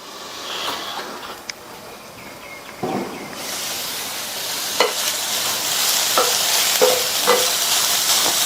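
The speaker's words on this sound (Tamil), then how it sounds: "இந்த காய் வந்து எண்ணெயிலே வதங்கி 3/4 பங்கு அளவுக்கு வெந்து வரட்டும்" Snake gourd sautéing in plenty of oil while being stirred, a soft sizzle that swells louder partway through, punctuated by several sharp scraping strokes of a spoon against the pan.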